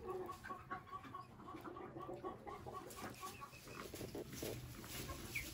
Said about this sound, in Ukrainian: Дивіться, які курчата.